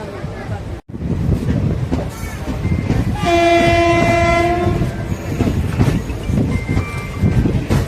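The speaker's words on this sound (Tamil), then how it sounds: "ஈரோடு வேப் 4 ஹார்ன் சூப்பராக இருக்க சவுண்டு" Erode-based WAP-4 electric locomotive sounding a loud, sustained two-tone horn for about two seconds as it passes, over the rumble and clatter of a moving train, with people talking nearby.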